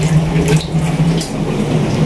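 Water runs steadily from a tap, a continuous splashing stream close by with no voices.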